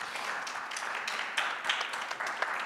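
A young audience at a mini-lecture on plastic waste claps steadily in moderate, continuous applause with a few sharper individual claps standing out.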